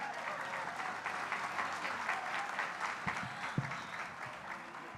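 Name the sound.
audience applause for Councilmember Janine Peirce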